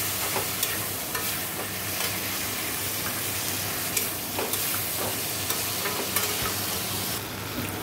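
A spice paste of cumin, coriander and Kashmiri chili, with slit green chilies, fries in a pan for a prawn curry; a steady close sizzle continues throughout, broken by repeated scraping taps of a stirring spoon.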